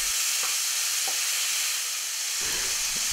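Bell pepper pieces fry in a pan with caramelized powdered sugar, giving a steady close sizzle and hiss throughout, with a few faint stirring knocks and a louder scrape of movement near the end.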